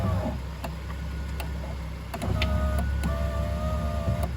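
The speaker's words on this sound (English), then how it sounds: "Now let's listen for the motor." A Land Rover door's window regulator motor whirs in two steady electric runs, a fainter stretch first, then a louder, higher whine after a click, heard close and alone without speech.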